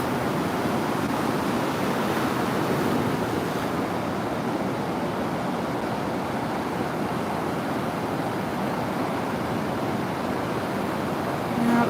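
Ocean surf rolling onto a beach at sunrise, a continuous, even wash of breaking waves with some wind noise, with no voices.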